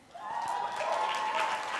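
Audience at a Young Life sponsor banquet applauds the Northwest Tucson team, steady clapping from a room of people that swells quickly and holds level, with faint voices mixed in.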